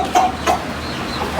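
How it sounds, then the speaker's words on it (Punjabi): A farmyard hen gives two or three short, fairly loud clucks close by over a low steady background, no speech. "ਇੱਕ ਇਹ ਮੁਰਗੀ ਆ"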